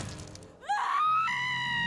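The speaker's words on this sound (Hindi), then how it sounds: "रतिप्रिया जोर से चीख पड़ी।" A woman lets out a sudden, loud scream of pain in a horror podcast sound effect, rising sharply in pitch and then holding a strained, sustained cry after a short stretch of low rumbling.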